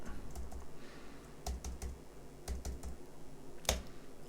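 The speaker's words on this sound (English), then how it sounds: "gonna type in 100 million here" Keys on a computer keyboard are tapped in short separate bursts, entering a number into a photogrammetry program, close and fairly quiet, with a sharper clack near the end and no talk.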